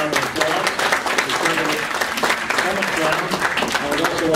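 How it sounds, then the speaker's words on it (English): Sustained audience applause for a conference panel as a session closes, a dense, steady wash of many hands clapping at even loudness for several seconds. "let's give our panelists a tremendous round of applause"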